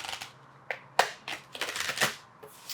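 Tarot cards being shuffled by hand, a series of crisp riffling bursts and soft slaps at close range, with no talking.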